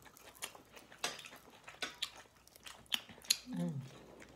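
Chewing and biting while eating galunggong fish at a home mukbang, with soft irregular clicks, smacks and crunches close up, alongside a faint voice and low background noise.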